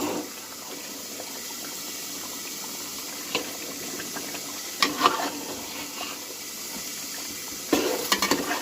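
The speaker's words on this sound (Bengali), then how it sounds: "দিয়ে আলুটা ভেজে দেবো দুই মিনিট" Potatoes frying with beef in a pan, a steady bubbling hiss that runs throughout, with a few louder scraping stirs near the middle and end, nearby and without speech.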